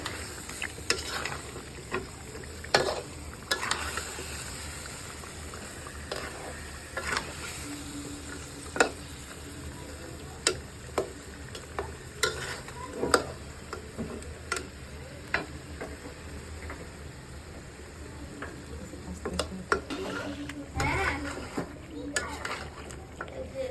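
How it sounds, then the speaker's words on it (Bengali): A spoon or spatula stirs chicken roast with liver frying in a pan, making scattered scraping clicks over a soft continuous sizzle, with a voice talking at times. "এই যে এখন আমি একটু নেড়ে ছেড়ে দেবো"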